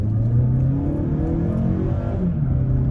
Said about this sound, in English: right here should give us a good opportunity to try an acceleration off the line and on the gas